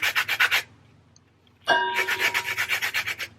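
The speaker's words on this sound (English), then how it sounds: "I don't know which side to use to zest, so I'm going to try all sizes." A lemon rubbed against a kitchen grater for zest makes quick rhythmic rasping strokes, a short burst, a pause with a faint clink, then a longer run of close scraping.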